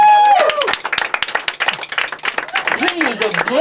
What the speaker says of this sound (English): give him a charming round of applause.